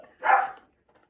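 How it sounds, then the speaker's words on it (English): A pet dog lets out a single short burst of barking, fairly close and loud, then the room goes quiet except for a couple of faint clicks. "There's my dog. I told you you'd hear him."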